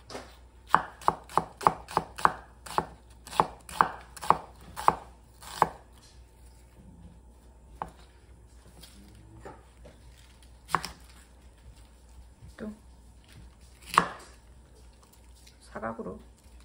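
Knife chopping onion, cabbage, green onion and hot peppers on a cutting board in a home kitchen, a quick run of sharp rhythmic chops followed by sparser single cuts, close and crisp.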